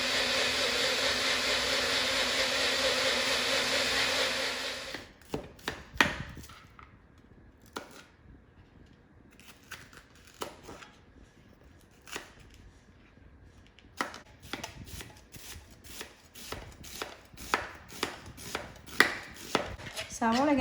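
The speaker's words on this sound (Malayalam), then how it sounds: "സവാള ഇങ്ങനെ കനം കുറച്ച് നീളത്തിൽ അരിഞ്ഞെടുക്കാം." Knife thinly slicing onions lengthwise on a board, irregular crisp chopping taps following a loud grinding mixer that cuts off early.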